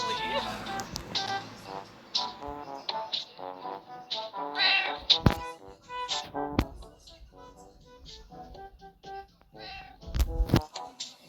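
A cartoonish cat meows repeatedly in the video game Scary Teacher 3D, loud and close, with game sound effects and sharp thumps, while a player chatters over it.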